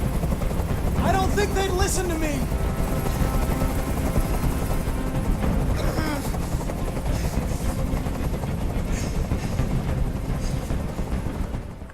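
Helicopter rotors beat loudly and steadily through a hostage standoff scene in the video game Detroit: Become Human, mixed with game effects and music, while a voice speaks over it.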